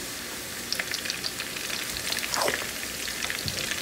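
Cauliflower pieces fry in oil in a pan for aloo gobi, giving a steady crackling sizzle with scattered pops and a brief stir partway through, close by and with no talking.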